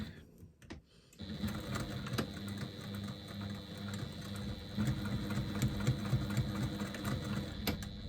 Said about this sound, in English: we're going to stitch along the short ends at 3/8 of an inch seam allowance